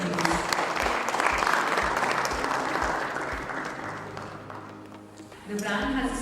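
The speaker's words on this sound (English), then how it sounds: "Once again, a great round of applause, please." An audience at a publishing industry award ceremony gives a dense, sustained round of applause over background music, the clapping slowly tapering before the music swells again.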